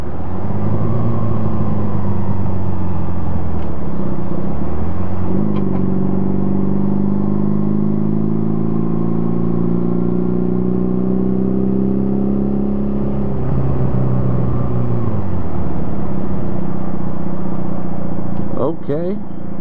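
A Honda Rebel motorcycle engine cruises with a loud, steady droning hum that shifts pitch as the rider changes speed, rising, holding level, then dropping, with a rider talking over it at times.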